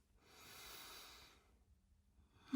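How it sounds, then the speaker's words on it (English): A single deep inhale during a yoga flow, a soft airy breath swelling for over a second and then fading to near silence. "Deep inhale."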